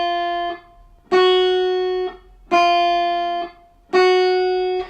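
Four ringing electric guitar notes, each struck cleanly and sustained for about a second, bright and evenly spaced with no talking.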